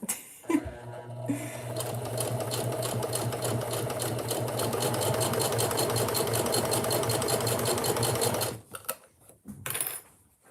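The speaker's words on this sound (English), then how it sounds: "my sewing machine is loud. I'm sorry." A sewing machine runs steadily at high speed for about eight seconds, a loud rapid mechanical rattle, then stops, followed by a few clicks and knocks.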